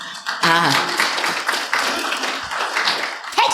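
An audience bursts into applause, a sharp clap onset followed by sustained clapping, with a voice talking over it.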